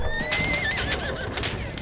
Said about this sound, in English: Oh, we got a horse.